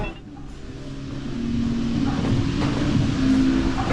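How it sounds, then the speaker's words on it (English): A motorcycle engine idles and rumbles steadily on a street in the old San Blas district of Cusco, Peru, a close, continuous low drone that grows slightly louder partway through. "I had to wait for him to turn off his motorcycle engine because it's really noisy"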